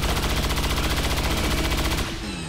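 Loud, rapid automatic gunfire at a codex in XCOM 2 hammers out as a dense continuous burst for about two seconds, then cuts off into a short fading tail.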